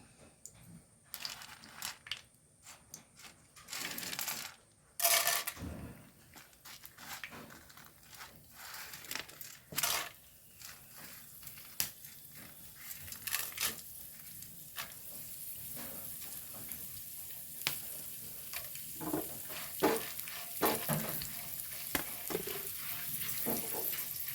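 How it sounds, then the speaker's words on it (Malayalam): Chana dal tipped into hot coconut oil in a pan, a soft, continuous sizzle running throughout, punctuated by sharp clinks and scraping from a utensil, fairly quiet and close. "അതിലേക്ക് കടലപ്പരിപ്പാണ് ഇട്ട് കൊടുക്കുന്നു"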